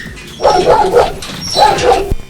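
A Neapolitan Mastiff at a breeder's kennel gives two bursts of barking, close and fairly loud, each lasting about half a second, with a short gap between them.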